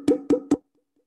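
Wooden emu caller hit continuously to imitate a female emu: three evenly spaced hollow resonant knocks in quick succession, close and alone, followed by silence.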